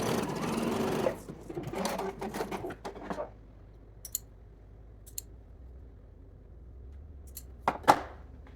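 A sewing machine runs close by, stitching lace bodice fabric closed in short runs of fast whirring during the first few seconds, then falls quiet apart from sparse light clicks and a final brief burst.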